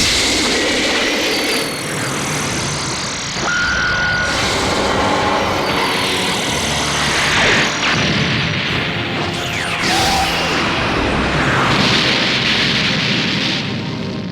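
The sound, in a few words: Special Beam Cannon attack in video game Dragon Ball Xenoverse 2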